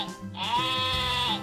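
A single drawn-out sheep bleat, loud and close, with a wavering nasal tone lasting over a second.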